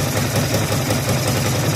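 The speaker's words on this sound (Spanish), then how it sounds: "mantiene el ralentí. Pero se ahoga" A truck engine idles in a garage with the choke on, labouring and prone to sputtering. It gives a steady, close, low rumble that runs unbroken through the short stretch.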